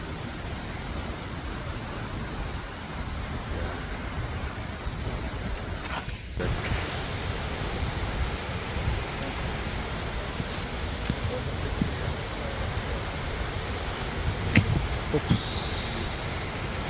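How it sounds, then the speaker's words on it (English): A river flows near Seljalandsfoss waterfall, giving a steady, full rushing wash that stays even throughout, with some wind buffeting the microphone and faint voices in the background. "There's a river here."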